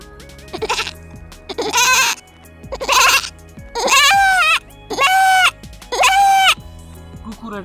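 A man imitates a goat bleating with his voice, producing a series of loud, close, wavering bleats of varying length in quick succession.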